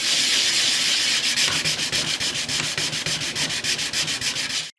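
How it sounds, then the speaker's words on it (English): Sanding a damaged surface on a Philips B4X23 radio cabinet: steady close abrasive rubbing that turns into quick rhythmic back-and-forth strokes, loud and alone. "I'll just sand the hell out of it and see what happens."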